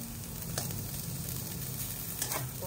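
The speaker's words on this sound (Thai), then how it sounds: "ให้กระทะร้อนแป๊บนึงแล้วค่อยคนไว้ผัดให้หอม" Curry paste sizzles steadily as it is stir-fried in a hot pan for a Thai fish relish, with a soft continuous crackle and a few faint scraping stirs, and no voices.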